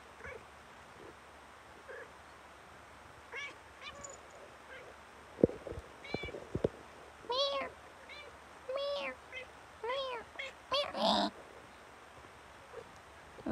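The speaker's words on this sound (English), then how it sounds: "I'm just telling Wolfer she won't stop meowing." A cat meows again and again at close range, a run of drawn-out, rising and falling meows spread through the stretch with short gaps between them, along with a few faint background sounds.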